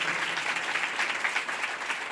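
Audience applause during a spiritual discourse, a brief, dense, steady clatter of many hands clapping together at a constant level, with no speech over it.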